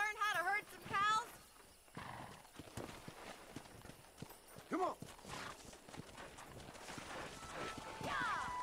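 Horse hooves clip-clop steadily in the video game Red Dead Redemption while a horse neighs a few times; a voice calls out briefly over the trotting.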